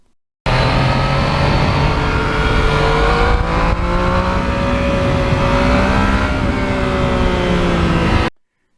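A 2020 Yamaha MT-09 motorcycle engine held at steady wide-open throttle, its pitch climbing and dropping slightly with quick-shifter gear changes, loud and continuous throughout.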